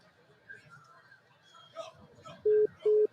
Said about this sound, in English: All right, I'm dialing.